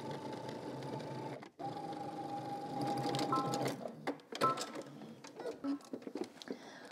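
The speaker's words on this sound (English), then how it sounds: "now we're gonna head to the sewing machine and you're going to edge stitch the folded edge" A sewing machine edge stitching the folded edge of fabric for a Simplicity top, a steady close mechanical whir that pauses briefly, then runs again before giving way to handling noises and short stops.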